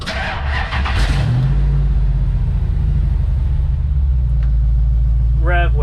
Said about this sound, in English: Let's get her started up.